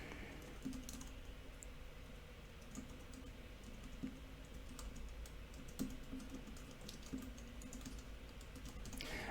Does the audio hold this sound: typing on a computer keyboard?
yes